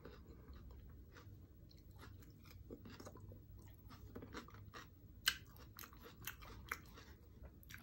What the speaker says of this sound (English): The crunchiness of this radish and the spiciness, woo!